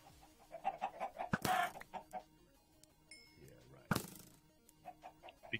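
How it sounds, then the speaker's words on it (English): Minecraft chickens clucking in short bursts in a game, fairly close, with two sharp louder noises breaking in and a voice talking at times. "placing some chickens on the ground"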